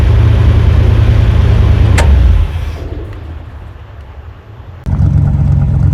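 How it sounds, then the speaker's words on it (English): A 1969 Jeep Gladiator pickup truck's engine runs with a loud low rumble, dips quieter for a couple of seconds, then returns to full strength, heard close up. "I do love the sound of this truck"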